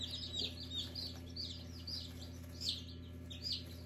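Newborn chicks peep in a brooder box, high repeated chirps in small clusters over a steady low hum, fairly faint.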